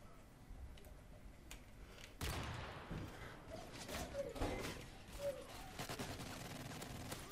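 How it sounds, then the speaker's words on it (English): Gunfire in the shooter game Modern Warfare 3: scattered shots and a sudden loud burst of fire, followed by irregular cracks and ticking impacts over low game ambience, with faint voice sounds in places. "Oh god, where's he shooting me from?"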